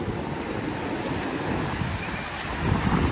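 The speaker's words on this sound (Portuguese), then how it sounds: "Só o barulhinho da água aí, ó." Pacific Ocean surf at Monterey, California, a continuous wash of waves with wind rumbling on the microphone, swelling a little louder near the end, no voices.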